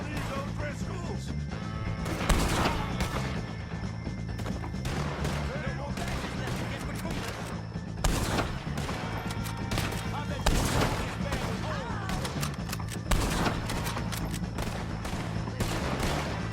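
Gunfire at O'Driscoll gang members in the video game Red Dead Redemption 2, repeated rifle and pistol shots cracking over a dense, noisy battle mix, with several louder blasts standing out amid continuous chaotic shooting.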